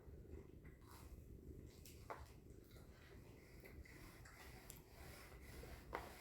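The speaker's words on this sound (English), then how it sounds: "She sounds like a motorcycle. She is a motorcycle. It's the purring." A domestic cat purrs softly and continuously up close, a low rumbling drone with a few faint clicks and rustles around it.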